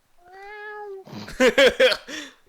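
A voice speaks briefly at first, followed by a run of short, clear meows in quick succession, close and fairly loud.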